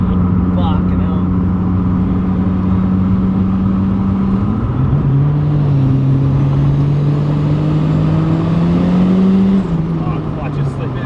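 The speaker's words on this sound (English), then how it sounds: "Oh, clutch is slipping." A Toyota AE82 drives with a slipping clutch, its engine a loud, sustained close drone that shifts pitch partway through as revs change, with people talking over it.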